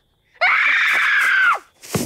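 One loud, sustained scream from a woman in a horror film, held for about a second and then tailing off, followed by a short rough breath.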